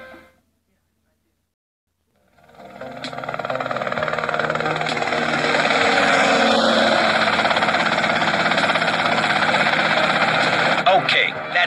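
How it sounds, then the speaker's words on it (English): A helicopter in GTA Vice City flies past as a steady, loud rotor and engine drone, starting after about two seconds of silence and holding evenly to the end. No one speaks over it. "Okay, that's them and the chopper."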